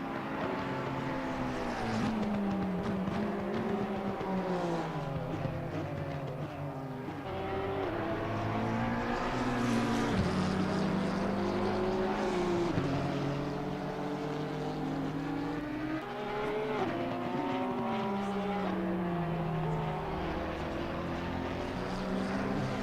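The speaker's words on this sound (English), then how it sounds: "And Mohamed Irfan only now going to be finishing the race." Race cars crossing the finish at Bathurst in a racing video game, engine whines rising and falling steadily at close range as several cars pass in a continuous drone.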